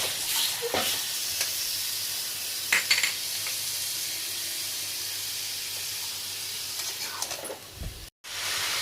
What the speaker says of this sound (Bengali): কষানো মানে তেলের মধ্যে একটু হালকা করে ভাজবো